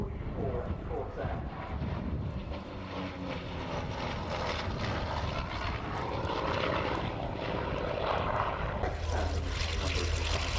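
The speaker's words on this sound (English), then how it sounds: "Final pass now from the F4U-4 Corsair." An F4U-4 Corsair piston-engine fighter roars past at an air show, its propeller drone loud and sustained throughout, with a voice talking over it.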